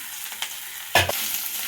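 Ground prawn chutney drops into a hot tempering of mustard seeds, cumin, chana dal, urad dal and curry leaves, giving one sharp burst of sizzle over a soft steady frying hiss, with a couple of faint earlier pops.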